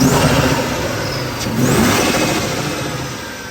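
A supercharged 2008 Ford Mustang Bullitt with Paxton supercharger and headers revs hard on a dyno, a loud, continuous engine roar that surges and builds midway with a whining rise, close and without voices.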